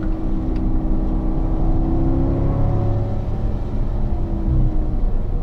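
Corvette engine on a racing circuit accelerating hard out of a curve, a loud sustained roar with rising harmonic tones as the throttle is squeezed down, steady and close with no talking.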